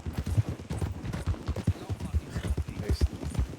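Horse hooves clip-clop in Red Dead Redemption 2, a steady rhythmic run of close, fairly loud hoofbeats over several seconds, with a faint voice mixed in.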